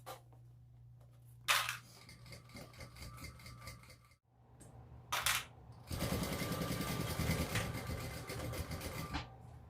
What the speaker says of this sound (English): I'm just going to stitch on my binding at 1/8 of an inch seam allowance